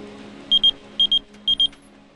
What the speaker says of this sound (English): Luckily, the beeper worked.